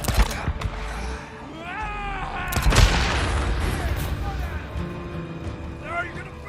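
Gunfire and booming blasts in the post-apocalyptic video game Days Gone, a loud burst of shots with an explosive thump amid shouting characters, voices talking over the combat throughout.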